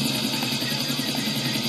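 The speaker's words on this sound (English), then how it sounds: "Oh, there's a red helicopter." A red helicopter in GTA IV flies nearby, its rotor a steady loud chopping whir with engine whine that holds constant throughout the short stretch.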